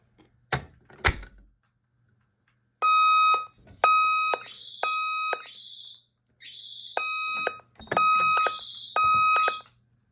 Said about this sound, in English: let's pull a fire alarm